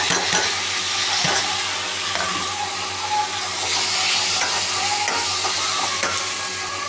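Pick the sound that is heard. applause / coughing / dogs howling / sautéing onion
sautéing onion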